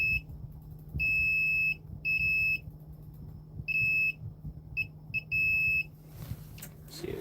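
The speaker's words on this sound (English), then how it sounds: "If I tap them, get that beep." Several high-pitched multimeter continuity beeps while probing a PS5 motherboard, short and longer tones in irregular bursts, loud and close over a low background hum.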